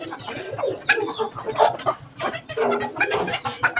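Chickens on a small hobby farm in Bangladesh cluck steadily while feeding, several birds close by in a busy, overlapping flock chorus with no talk.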